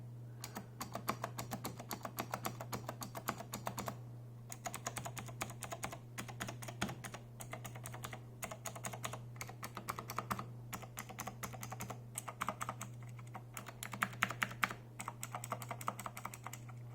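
Rapid typing on an Ajazz AK533 tactile mechanical keyboard, a steady stream of clicky keystrokes with brief pauses, up close, over a constant low hum.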